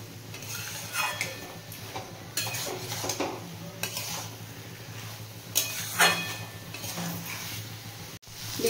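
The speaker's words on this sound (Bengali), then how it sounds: "আবারও নাড়িয়ে নিচ্ছি" Fried potatoes and paneer get stirred in a pan with a spoon, making steady, close scraping and clattering strokes over a soft sizzle, with no voices.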